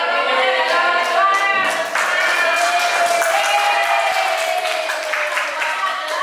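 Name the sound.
applause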